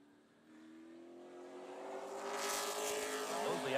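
A Pro Late Model race car laps during qualifying at Cordele Motor Speedway, its engine note climbing steadily from a distant drone to a louder, nearer roar as it approaches.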